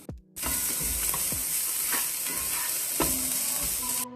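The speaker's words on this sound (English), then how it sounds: "I feel like that's sufficiently sauteed, so I'm going to be adding in the carrots first." Carrots and other vegetables sautéing in a pan for fried rice, a loud continuous sizzle beginning sharply and holding steady, with a few soft stirring scrapes underneath and no voices.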